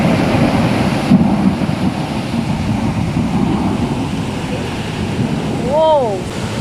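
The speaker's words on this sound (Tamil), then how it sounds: "நேற்று நைட்டு குவைத்தில் சரியான மழை, அதோட இடி மின்னல் காற்றுன்னு பயங்கரமாக இருந்தது" Heavy night rain with thunder and wind in Kuwait makes a loud continuous roar of rain and gusts, with low rumbling swells and a short whistling sound near the end.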